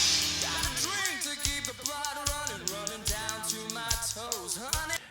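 Thin, phasey residue of a musical mix left after cancelling an analog tube-processed version against its digital original, with faint rhythmic thumps and wavering tonal fragments throughout, no voice.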